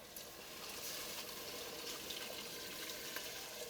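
Water is poured by the cup into a pot of Italian wedding soup, a quiet, steady splashing trickle that runs continuously with small bursts and no voices.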